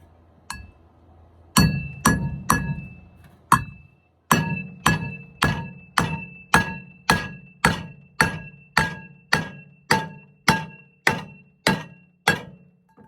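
A 16 penny nail hammered through a skillet into a 4x4: about twenty sharp ringing metallic strikes, close and loud. A few come spaced at first, then a steady, evenly timed run of blows, each with a bright clanging ring.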